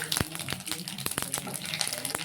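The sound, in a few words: mustard seeds spluttering in hot oil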